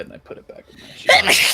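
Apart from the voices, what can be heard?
person sneezing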